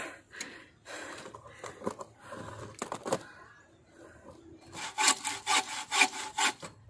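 Bow saw cutting through a coconut palm trunk by hand, with repeated rasping strokes that grow louder and faster toward the end, close by and with no talk.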